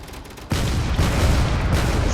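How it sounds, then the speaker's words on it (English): Cannons pound away in the video game Drone Wars, a dense, continuous barrage of booming fire that kicks in abruptly after a quieter moment and stays loud and sustained throughout. "it's still very dangerous with those cannons."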